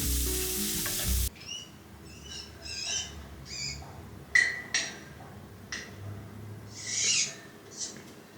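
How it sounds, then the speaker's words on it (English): Italian sausage from a farmer's market browning in a pan, a crackling sizzle with several bursts of spattering after a short burst of music at the start. "brown some Italian sausage that I got from the farmer's market"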